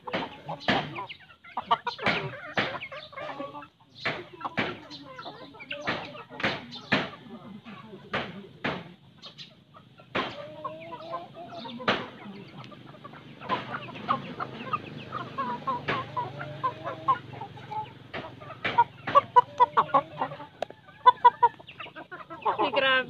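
Chickens fight, clucking and squawking agitatedly at close range, with scuffling and flapping bursts, and a person talking intermittently over them.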